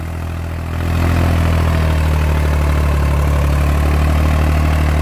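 A Swaraj 735 FE tractor engine runs steadily at close range with a tiller, a loud, deep chugging idle that swells slightly after the first second and holds constant.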